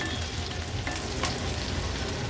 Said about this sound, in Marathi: आलं लसूण क्रश तेलावर असं छानसं परतून घ्यायचं आहे आपल्याला